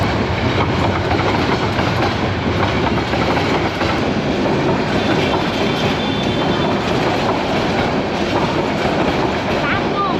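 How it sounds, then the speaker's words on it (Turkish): A train rolls past close by in Dhaka, Bangladesh, its wheels clattering continuously and loudly for the whole stretch with a steady rumble underneath. "Tren geçiyor."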